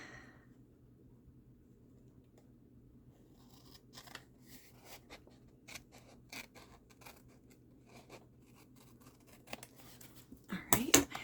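Scissors cutting paper to make an envelope, quiet scattered snips and rustles close by against a low hum, ending in a louder crinkle of handled paper.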